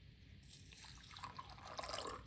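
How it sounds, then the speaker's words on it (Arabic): Freshly boiled water poured into a cup holding a small spoonful of dried thyme, a steady close trickle that grows fuller and splashier as the cup fills, with no voices. "وكتضيفي لها ماء اللي يكون مغلى"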